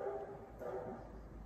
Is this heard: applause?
no